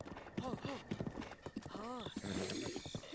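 Rhythmic clip-clop of a horse's hooves in Breath of the Wild on Switch 2, with a whinny and someone talking over the hoofbeats throughout.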